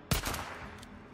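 A single sharp gunshot rings out in Days Gone, close and punchy, with a brief trailing echo and a second faint crack near the end.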